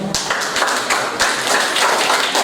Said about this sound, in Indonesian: Berikan aplaus untuk kelompok 6